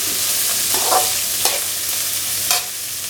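Onion, ginger, green chili and curry leaves fry in a hot pan, giving a loud continuous sizzle with a few sharp stirring scrapes, close up and with no speech.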